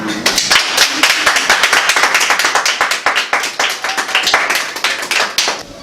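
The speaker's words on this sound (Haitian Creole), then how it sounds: "Ça mérite quand même un applaudissement." A small group applauds after a marriage proposal is accepted, sharp hand claps coming close and loud in a steady, slightly uneven patter that keeps going for several seconds.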